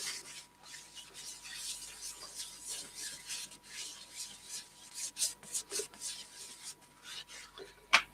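A hand rubs finish into a yew crotch bowl on a lathe that is still or turned slowly by hand, giving soft repeated rasping strokes in an irregular rhythm with a sharper scrape near the end.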